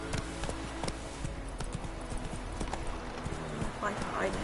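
Hooves of Roach, Geralt's horse in The Witcher 3, clip-clop in a steady rapid gallop close by, with a brief whinny near the end over game ambience.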